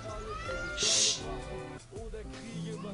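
A cat meows in the video game Viva Pinata, a drawn-out, wavering call under a sharp chime and game sounds, with a voice talking over it.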